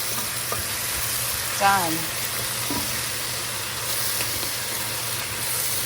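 Pork collar stir fry with cabbage, chive and black fungus sizzles steadily in a pan, a soft continuous hiss with a brief voice over it.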